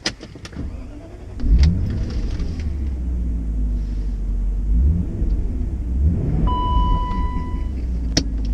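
A 1995 BMW Alpina 530i drives with a continuous low engine rumble that swells briefly as it pulls away. A couple of short electronic chime tones sound near the end.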